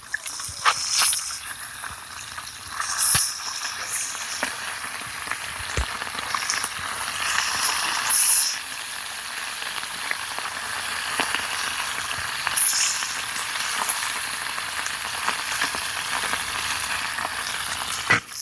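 Striped bass fillets sizzle in hot oil in a pan, a steady close crackle with scattered sharp pops throughout and no talking.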